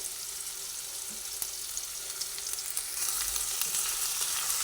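Chopped garlic frying in a pan with onion and dried red chilli for a kakrol vorta recipe, a steady close sizzle with faint scrapes of stirring that grows slightly louder partway through, with no talking.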